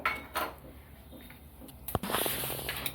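Lentils (dal) go into a pan with roasted onion for Maharashtrian masvadi, a brief pour followed by clinks of a utensil on metal and light rattling, close and fairly quiet.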